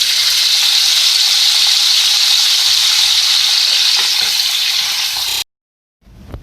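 Half a kilogram of potatoes frying in oil, a loud, steady, close sizzle with bubbling hiss that runs unbroken and then cuts off abruptly, followed by a brief faint clatter.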